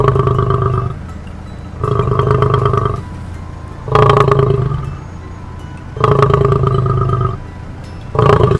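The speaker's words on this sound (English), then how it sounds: "all the poor lion can do is just watch and growl at them" A battle-scarred male lion on an African safari growls in deep, loud, rumbling bursts, four long growls separated by short pauses, close to the listener with no talking.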